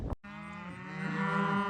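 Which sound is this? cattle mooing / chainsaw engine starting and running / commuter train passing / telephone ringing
cattle mooing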